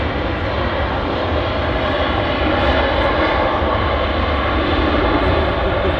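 An Emirates Airbus A380 airliner at Manchester Airport gives a loud, sustained, low engine roar that holds steady and fills the whole clip. No one speaks.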